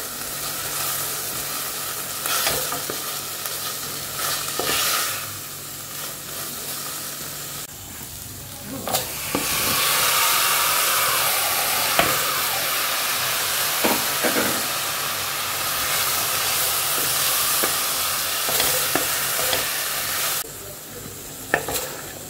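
Chicken keema sautés in a pan with ginger-garlic paste and chicken gravy masala, sizzling steadily and close up, with scattered scraping stirs and a brief lull partway through.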